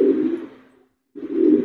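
A pigeon coos close by in two low, throaty bursts separated by a short pause, clear and alone with no talking.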